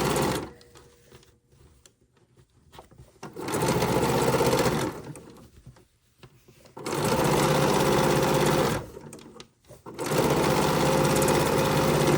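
A sewing machine runs in three long, loud, steady bursts with short pauses between, stitching fabric close to the edge for a Dresden pillow.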